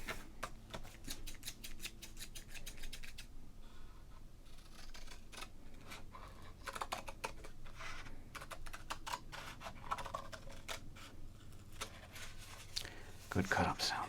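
Scissors snipping through a 1986 Donruss large All-Star baseball card, close and crisp, with rapid repeated cutting clicks and rustling cardboard over roughly fourteen seconds, alongside quiet speech.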